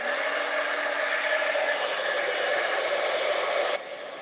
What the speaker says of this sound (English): I'm going to turn on my embossing tool. So don't, it's going to be kind of loud